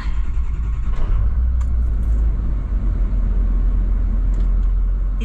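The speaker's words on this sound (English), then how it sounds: "let's start this van." Diesel van engine starting: an initial key and starter rattle, then a loud, steady low diesel rumble idling close by, with a few small metallic jingles on top.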